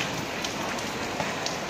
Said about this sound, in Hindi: देख लो गाइस, बारिश हो रही है, यहाँ पे पानी भर गया